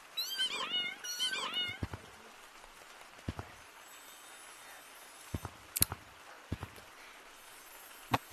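A game cat in the VR game Gorilla Tag's Halloween update gives a short, wavering meow-like cry at the start, followed by scattered faint taps and clicks against a quiet background.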